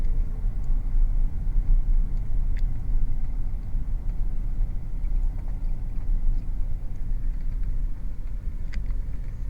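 Cars inching along in slow, miles-long traffic on a bridge over water, heard as a steady, low engine and road rumble with no break, close and even throughout.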